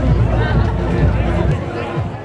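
A large outdoor crowd of students mills outside a marquee at a university snow sports ball drop event, a dense murmur of chatter and babble holding steady throughout, slightly easing near the end.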